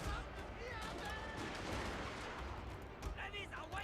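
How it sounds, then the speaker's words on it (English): Cannon fire in Total War: Fall of the Samurai, wooden field cannons booming amid a dense battle din of gunfire and noise, with someone talking over the fighting. "Don't shoot your cannons into the back line of his men."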